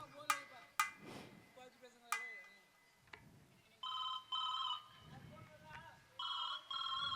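A telephone rings during a call, its electronic ring tone sounding in two clear bursts after a stretch of conversation, fairly close and loud over a quiet room with voices talking around it.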